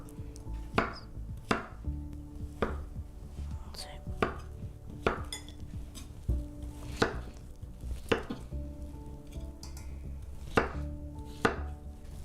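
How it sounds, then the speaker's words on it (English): A knife roughly chops boiled potatoes in a close series of sharp, regular thuds, about a dozen strikes in a steady rhythm with faint clatter between them. "They just can be roughly chopped like this."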